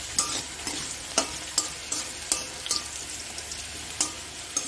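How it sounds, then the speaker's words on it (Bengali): Garlic fried in a pan for a bharta, stirred with a spatula: a steady close sizzle cut by regular sharp scraping strokes, roughly one or two per second. "এখন রসুনটা হয়ে গেছে ভাজা, এখন উঠিয়ে দিব।"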